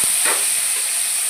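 Ground spices hit hot oil that already holds cumin seeds, and a steady, bright sizzle and hiss carries on close and loud, with an initial soft thump.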